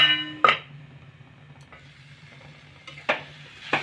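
Beetroot and carrot stir-fried in a pan for vegetable chop filling, a low sizzle broken by a few sharp spatula scrapes and knocks at the start and again near the end, close by.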